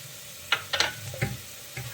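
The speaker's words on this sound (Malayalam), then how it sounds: "എല്ലാം കൂടി നന്നായിട്ടൊന്ന് വഴറ്റിയെടുക്കാം." Onions and green chillies sautéing in a pan for a mutton curry, with a soft steady sizzle and a few sharp scrapes and clacks of a spoon stirring at irregular intervals, no talk.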